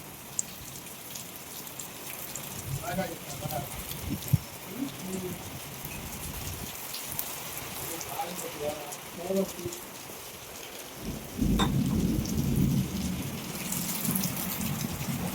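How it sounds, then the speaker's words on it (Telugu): Heavy rain pours steadily through the night and patters on surfaces nearby, then swells louder partway through, with faint bird calls in the background. "నైట్ అంతే వాన కురుస్తూనే ఉంది"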